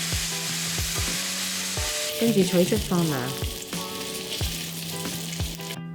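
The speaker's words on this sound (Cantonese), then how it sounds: "放入五花腩煎到兩面上色，然後轉細火將五花腩煎到全熟" Pork belly slices sizzle in hot oil in a wok, a steady frying hiss with occasional scraping and tool clatter, while a voice talks over it.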